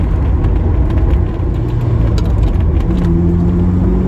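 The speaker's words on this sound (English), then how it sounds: "The engine is sounding sweet." A Ferrari 308 engine running steadily while driving, a loud, close, continuous rumble with a sustained tonal drone that shifts pitch partway through, and no voices over it.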